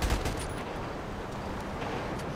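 A gunshot from the video game Grand Theft Auto V cracks out loud and close at the very start, then fades into a steady, hissing background wash with no further clear shots.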